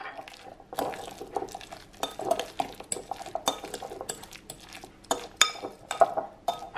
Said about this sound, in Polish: I dodajemy dropsy czekoladowe.